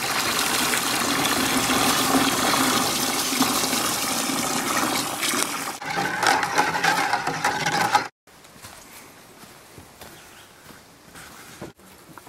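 Bleach poured and stirred into a small quantity of water for cleaning 3/16 maple sap lines, a steady rushing, gushing water sound lasting about eight seconds before cutting off to quieter handling noise.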